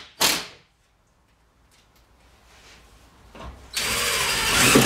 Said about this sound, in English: I'm drilling these screws into studs, so you got a good bite.